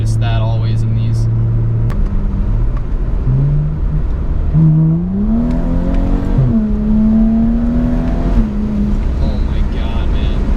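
A tuned 350 whp 2011 BMW 135i idles, then launches hard, its engine pitch climbing through several upshifts with short breaks between gears, loud and close from the cabin.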